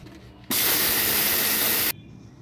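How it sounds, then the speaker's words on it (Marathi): A mixer grinder whirs through dry sabudana in a single loud, dense burst of roughly a second and a half that starts and stops abruptly, with quiet room sound before and after. "मी इथे एक वाटी साबुदाणा घेतलेला आहे, मिक्सरमध्ये फिरवून घेऊयात"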